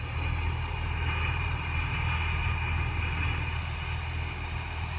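A John Deere tractor fitted with a rotary tiller runs at a steady idle, giving a constant low engine rumble with a faint whine above it and no change in pace or any speech.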